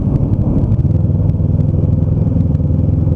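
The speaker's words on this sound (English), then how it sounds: "he rented a bike, and now we're riding" A rented motorcycle being ridden, with a steady, loud, close engine drone and light clattering throughout, and no pauses or talk.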